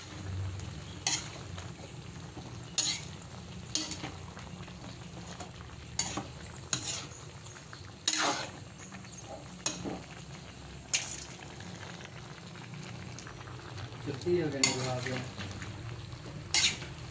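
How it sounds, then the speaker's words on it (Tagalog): Adobong pakbet with bitter melon simmering in a covered pot, with a soft steady bubbling and sizzle broken by several sharp utensil clinks and pot knocks. "malapit na maluto ang ating adobong pakbit"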